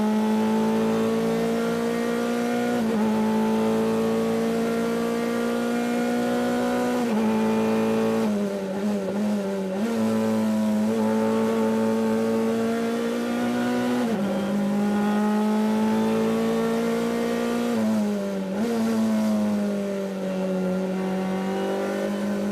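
Race cars lapping the circuit at Watkins Glen during a Zenith Racing Series race, engines droning continuously at high revs with pitch rising and dropping as they lift and accelerate through corners, loud and steady throughout.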